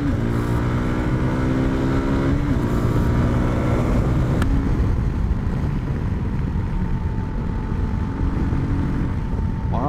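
A Voge 300 Rally motorcycle accelerating at full throttle on small country roads, its engine note climbing steadily through a couple of quick gear changes. The drone is loud and continuous, with wind buffeting throughout.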